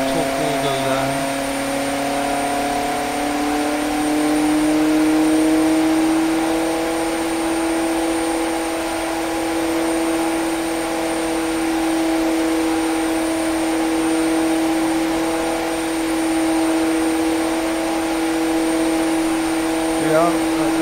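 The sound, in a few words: 1500 horsepower engine revving up slowly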